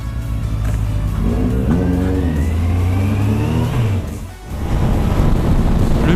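A Kawasaki Z800 motorcycle accelerates hard and near, its engine note climbing steadily through the revs, dipping briefly at a shift around the four-second mark, then pulling again with a loud, rough drone.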